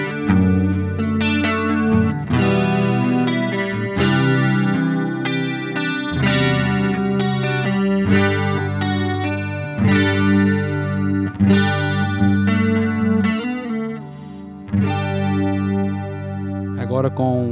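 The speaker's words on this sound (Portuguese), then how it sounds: "Vamos ver aqui agora um som com chorus, né? Captador do braço." Tagima TW55 relic Telecaster-style electric guitar on the neck pickup through a chorus effect, strumming and picking a continuous chord progression with a lush, shimmering, slightly overdriven tone, played alone.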